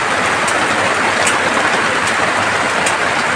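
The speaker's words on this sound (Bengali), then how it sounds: "বৃষ্টি পড়ছে প্রচণ্ড বাইরে বৃষ্টি আর এই যে চালির থেকে জল পড়ছে" Heavy rain pours outside a house with a leaking tiled roof patched with plastic, making a loud, dense, unbroken hiss with faint dripping ticks and no voices.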